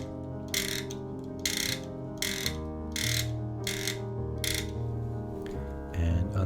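A hand crank turning a mechanism on a homemade flying machine build with moving wings gives a steady ratcheting, clicking rhythm in about six regular bursts over a low mechanical hum.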